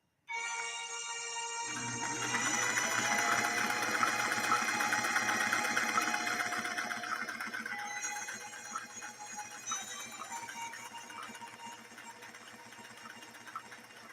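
A 1960s Singer 503A sewing machine runs in a continuous fast whirring, stitching rattle as it sews around in a circle, loud and close, starting abruptly and holding steady to the end.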